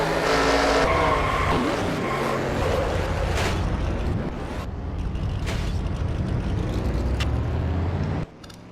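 A NASCAR Racing 2003 race car wreck replay, with loud engines roaring and screeching tires as cars slide and collide, a steady, dense mechanical roar that cuts off abruptly near the end.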